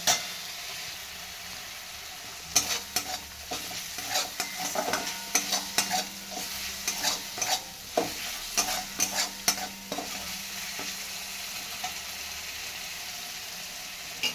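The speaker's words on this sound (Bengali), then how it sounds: "এবার মশলাটা কষাতে থাকবে।" Spice paste being stirred and fried in a pan for a vegetarian dhokar dalna, with a spatula scraping in irregular clusters of sharp clinks over a soft steady sizzle, close by and with no talking.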